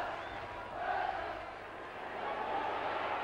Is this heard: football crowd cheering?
yes